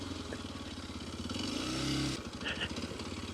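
A Kawasaki KLX230S dirt bike on knobby tires rides over fine silt, its engine a steady close drone that swells briefly as it revs, with some scraping and clatter from the ground.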